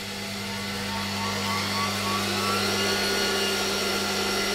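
A disassembled Interstate Engineering Compact C-6 vacuum cleaner motor runs on a bench power supply, giving a steady, loud whine with a constant low hum throughout and no speech.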